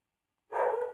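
After a moment of silence, a dog barks outside at night, one loud, sustained bark or howl-like yelp that starts abruptly and holds to the end.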